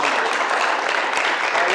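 Congregation in a church clapping, a loud, dense, steady wash of applause that fills the whole short stretch without pause.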